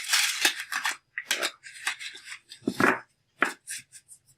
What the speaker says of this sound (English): That was a crappy little shuffle.